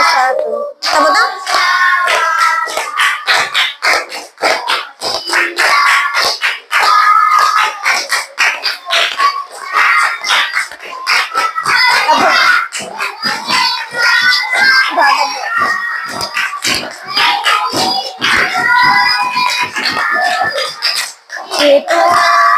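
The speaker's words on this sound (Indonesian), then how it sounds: "Tepuk tangan." A fifth-grade class of Indonesian schoolchildren claps hands in quick, crowded bursts, loud and close, with shouts and children's voices mingling among the claps throughout.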